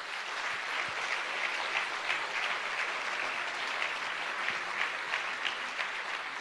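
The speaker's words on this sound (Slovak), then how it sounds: "Aj to si zaslúži potlesk." Concert audience at a Christmas concert applauding, a steady, even roar of many hands clapping that continues without a break, heard at moderate distance.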